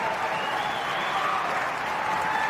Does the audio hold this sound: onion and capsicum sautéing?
no